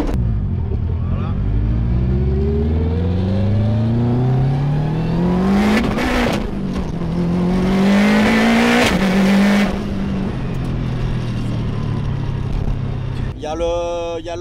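A sporty car engine revs hard and accelerates in rally fashion, rising through gears with loud, close engine drone and repeated pitch sweeps, while people talk over it.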